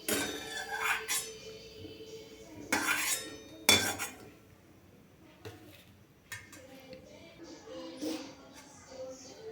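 Metal spoon scraping and clinking against a kadhai as fried cashews are lifted out, several sharp scrapes and taps close by, with soft kitchen noise between them.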